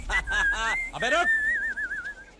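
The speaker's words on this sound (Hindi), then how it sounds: "बिना परमिशन के सीटी बजा रहा है ना?" Person blowing a whistle, a bright sustained tone that wavers and warbles for over a second, preceded by short chirpy pitch sweeps, with voices talking around it.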